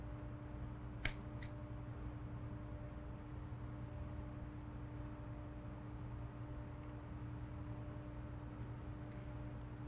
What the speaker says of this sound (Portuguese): vou abrir com a tesoura